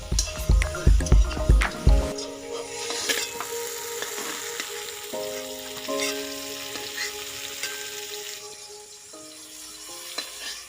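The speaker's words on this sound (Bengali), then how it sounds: "পটলটা হালকা করে ভেজে নিয়েছি," Pointed gourd fries in oil in a wok: a few sharp clattering knocks open, then a continuous close crackling sizzle with scraping stirs and small drips.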